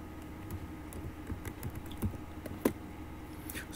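Soft keystrokes tap on a computer keyboard at an irregular pace, faint and close, over a low steady hum, with one sharper key press near the end.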